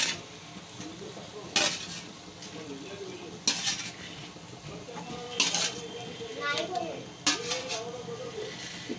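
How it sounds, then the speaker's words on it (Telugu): Eggs dropped into a sizzling pan of egg pulusu curry: a steady fry hiss broken by four sharp clinks and scrapes of a utensil against the pan, with a voice talking quietly underneath. "ఇప్పుడు మనం దీంట్లో ఎగ్స్ కూడా వేసేస్తామండి"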